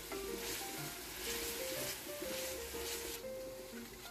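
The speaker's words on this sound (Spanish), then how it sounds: "Y voy a dejar que se cosa hasta que la cebolla se pone transparente." Onion frying in a pan for linguine with oysters, giving a faint, steady sizzle with soft crackles and no voices.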